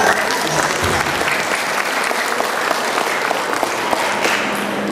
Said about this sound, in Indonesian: Saya tahu setiap saya cerita gaji semua tepuk tangan.